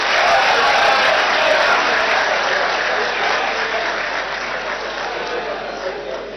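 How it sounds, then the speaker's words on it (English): A parliamentary audience applauds during a presidential address: steady, dense clapping from a large crowd in the chamber, loud and sustained, tapering slightly toward the end. "give Dorothy and the teacher a loud hand of applause to them"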